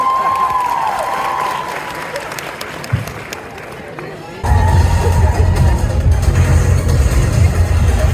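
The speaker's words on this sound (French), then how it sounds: "applaudissez bien fort, A2." Applause from an audience at a cosplay contest during a convention, clapping and crowd noise that swells sharply partway through and holds loud, with some babble and an announcer's voice earlier on.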